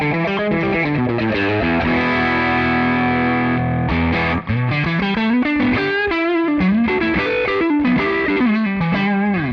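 Distorted electric guitar on the bridge pickup played through a Tonex Mini JTM45 amp model, pushed on the high channel: a loud, continuous crunchy riff with sustained chords and moving single notes, no voices.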